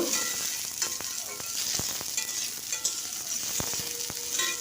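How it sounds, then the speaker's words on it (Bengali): Chopped onions frying with cumin in mustard oil, a steady close sizzle with sharp spatula scrapes and taps against the pan, no voices. "তেলের সঙ্গে পেঁয়াজটা ভালো করে মিশিয়ে একটু লাল লাল করে ভেজে নেব"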